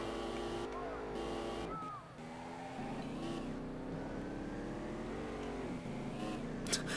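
A Ford Mustang fitted with a Nissan VR38DETT twin-turbo V6 accelerates hard in Street Legal Racing Redline, its engine note climbing steadily through the gears with brief dips at two shifts, loud and continuous throughout.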